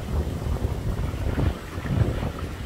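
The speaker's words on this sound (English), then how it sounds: "Really windy out there. You see the waves whipping up." Strong wind buffets the microphone at a shoreline while waves are whipped up on the water, giving a gusty, rumbling roar without speech.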